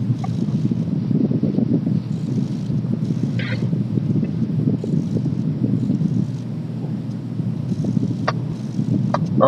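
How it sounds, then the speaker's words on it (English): Strong wind blowing outdoors in West Texas, a steady loud roaring buffet across the microphone for the whole stretch, with a few faint clicks and no talk. "because it's really windy"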